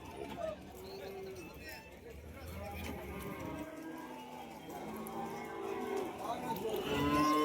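Kangayam breed calves moo at the Kundadam cattle market, with several nearby calls rising over a busy background of people talking and market bustle.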